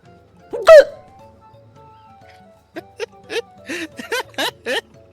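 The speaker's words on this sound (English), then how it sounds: "I don't know if cute is the word for these hiccups" A Final Fantasy XIV character hiccups in a series of high, squeaky, cute bursts, first one loud hiccup and then a quick run of several more in a rhythm.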